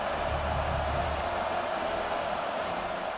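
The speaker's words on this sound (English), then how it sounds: "Decibels rising as the crowd gets behind this defense on 3rd down" A steady, roaring crowd noise rises from the stands during a third-down defensive stand in the college football video game CFB26. It holds as a continuous, fairly loud wash with no talk over it.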